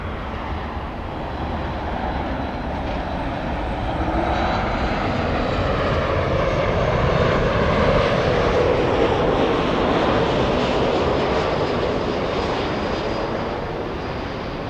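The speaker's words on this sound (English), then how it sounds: "Alaska 1408, flying in from Everett, Washington, a 737 MAX 8, a 2-hour flight to LA." An Alaska Airlines Boeing 737 MAX 8 jet passes directly overhead, its broad engine roar swelling to a peak midway and then easing slightly while staying loud and continuous.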